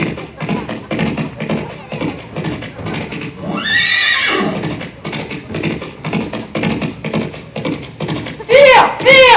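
A horse neighs loudly mid-way and again at the end, while steady hoof clip-clops beat throughout at close range, with voices in a period French costume drama scene.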